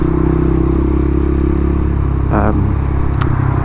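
Suzuki RV125 VanVan motorcycle riding on a cold morning in Wales: a steady, loud engine drone with wind rush that continues without a break, plus a brief rattling clatter partway through.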